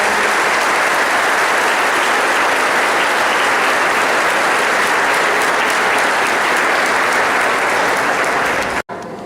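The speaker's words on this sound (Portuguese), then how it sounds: "Aclamemos o Evangelho, uma salva de palmas." Church congregation at a Christmas Mass gives loud, dense, sustained applause filling the space evenly, then cuts off abruptly near the end.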